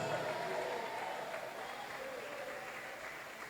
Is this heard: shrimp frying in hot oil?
no